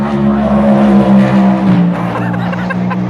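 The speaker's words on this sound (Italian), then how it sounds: "ciascuna di queste incredibili auto, tranne la McLaren, quella veramente fa un cazzo, fa un suono a dir poco allucinante" Race cars roar past on a track during a long endurance race in France, a loud continuous engine howl with shifting pitch as cars pass close by, no voices.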